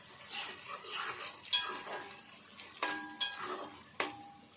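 A spoon stirring pounded ginger and garlic into a pot of Telugu-style curry, with scraping and a few sharp metallic clinks against the pot's rim, close and fairly quiet, no talking.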